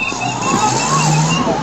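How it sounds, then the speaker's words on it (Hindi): Emergency vehicle sirens wail, rising and falling steadily over continuous traffic rumble at the Kumbh Mela after a gas cylinder explosion and tent fire, loud and close, with no voices. "सायरन्स की आवाज भी आप लगातार सुन सकते हैं।"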